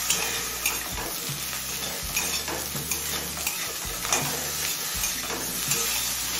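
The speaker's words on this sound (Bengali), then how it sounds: "বেগুন আর লঙ্কা দেওয়ার পর আরও 3-4 মিনিট ভেজে নিয়েছি।" Brinjal and green chillies fry in oil in a pan for mustard greens chorchori, with a continuous loud sizzle and repeated scrapes and clinks of a spatula stirring against the metal, and no voices.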